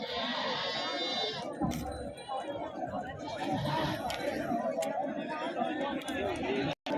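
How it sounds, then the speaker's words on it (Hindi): Goats at a crowded livestock fair in Malwa, with occasional bleats rising over constant crowd chatter and nearby voices throughout. "तो देखिए काफ़ी अच्छी बकरी है, हाइट शॉर्ट है पर मालवा में।"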